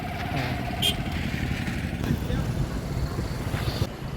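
A motorcycle rumbles close by in a Karnataka village during a Srisailam pilgrimage walk, its steady low engine drone running the whole time while people talk over it.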